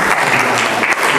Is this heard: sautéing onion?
no